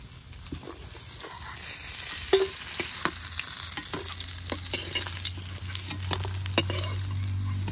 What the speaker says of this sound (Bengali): মাছ লাল লাল করে ভেজে নিয়েছি, এবার তুলে নেব।